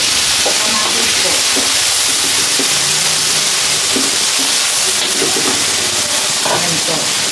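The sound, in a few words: sautéing tomatoes with browned onion and garlic in pan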